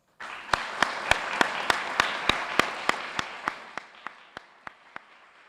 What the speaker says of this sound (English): a rousing round of applause to welcome back to the city of Milwaukee, Mr. Calatrava.